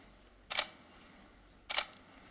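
Two crisp camera shutter clicks, about a second apart, as a group photo is taken at a city council meeting, close and clear against a quiet room.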